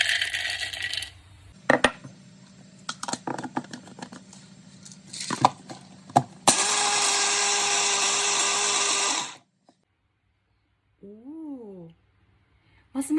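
A Nutribullet blender grinds pistachios in one steady, loud whirring burst of a few seconds, preceded by clattering and knocking as nuts and parts are handled, then silence.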